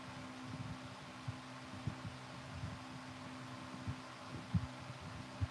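A sewing machine stitches fursuit fabric with a steady low motor hum and soft, irregular thumps of the needle. The sound is fairly quiet and close, with no talking.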